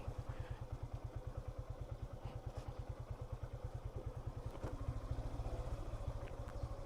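A motorcycle engine in first gear on a hilly road chugs in a steady low, rapid thumping pulse close to the mic, fairly quiet, with faint rattles and road noise over it.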